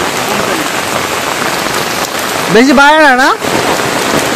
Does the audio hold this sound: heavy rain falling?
yes